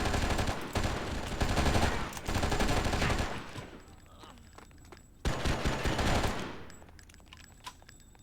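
Loud rapid gunfire in the video game Oni, long dense bursts of automatic shots, a pause, then another burst that tapers into quieter echoes and scattered pops, no talk.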